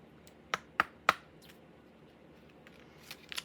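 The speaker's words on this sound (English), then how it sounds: "Three shuffles on each side, and then we'll cut the deck and get a reading." A deck of tarot cards is shuffled in a quiet room, with three sharp riffling clicks in quick succession followed by a few softer taps and flicks.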